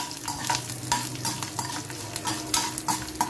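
About ten peeled garlic cloves frying in a pan for a perandi thogayal, with steady sizzling and rhythmic scraping of a spoon stirring them, close and moderately loud.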